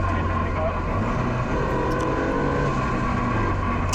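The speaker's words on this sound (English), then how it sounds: "after that run, as you guys can hear, our diff is making a hell of a noise" Nissan S13 Silvia with a damaged differential after a drifting run, a loud steady drivetrain drone and whine with a continuous low rumble, heard close up.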